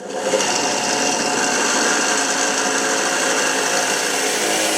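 Craftsman 8-inch benchtop drill press from Sears boring into a pen blank, a steady close whirring drone with grinding texture that runs unbroken and loud throughout, no voices.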